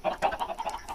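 Chickens in Minecraft cluck in a quick run of short, rhythmic bursts, about six clucks in one second, close and moderately loud with no voices.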